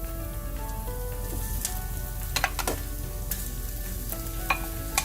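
Pre-seasoned ground taco pork drops into a pan of softened onions and fries with a soft, steady sizzle, punctuated by a few sharp scrapes and taps of stirring; no voices.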